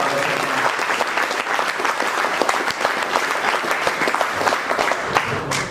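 An audience gives sustained, dense applause for guest Kunal Shukla at the Shree Shivam event "Atithi Devo Bhava". The many close and distant hands clap steadily and loudly for about six seconds.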